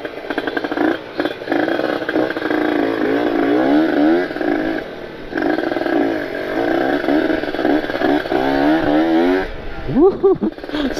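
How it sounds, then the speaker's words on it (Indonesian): A Kawasaki Ninja RR two-stroke with a ported engine and an ABRT20 aftermarket exhaust revs hard and repeatedly near the microphone, with rising and falling sweeps and a final sharp blip, while someone talks over it throughout. "Seru banget ya, knalpot ini galak banget."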